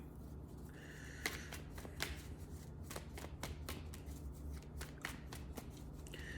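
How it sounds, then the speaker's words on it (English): Tarot cards being shuffled by hand, a string of crisp riffling and tapping bursts at an uneven pace, quiet and close over a low steady hum, with no talking. "I'm going to do another shuffle"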